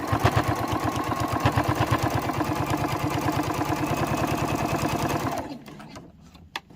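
Sewing machine stitching a 1/4 inch seam on a travel cutlery holder, a fast, even mechanical chatter of stitches running loud and close for about five seconds, then stopping, followed by faint handling clicks.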